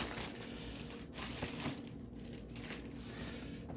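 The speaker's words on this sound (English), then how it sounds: "Pull it out of this plastic bag." A G.I. Joe Super 7 Ultimate Cobra Commander action figure is pulled from a plastic bag, giving close, continuous crinkling and rustling with small irregular crackles and no talking.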